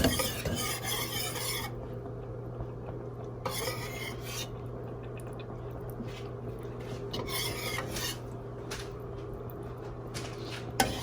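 A whisk scrapes and stirs through thick macaroni pie sauce in a pot, giving a steady rasping, scraping rhythm with a few brief clinks, close up and with no talking.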